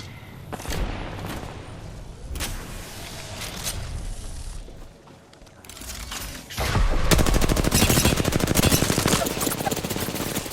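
Weapons fire in a round of Apex Legends: scattered single shots and short bursts, then a long loud stretch of rapid automatic gunfire toward the end, with faint voices in the background.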